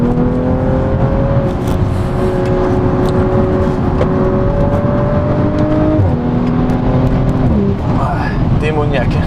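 An Audi RS5 engine in dynamic mode drones loudly and steadily, its pitch climbing through gear changes, with a voice talking over it.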